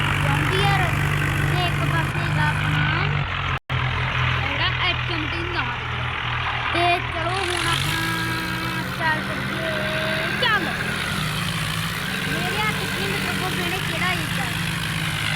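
Tractor engines drone steadily at a tractor tug-of-war contest, a deep, loud rumble that rises in pitch midway as one engine revs harder, with voices and shouting heard over the running machines throughout.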